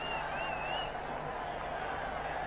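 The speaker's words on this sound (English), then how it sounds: "The crowd absolutely roared when Tendulkar got his first run." Stadium crowd at a 2005 one-day international cricket match between India and Sri Lanka, roaring as Tendulkar gets off the mark; a steady, distant wash of cheering with a high whistle early on.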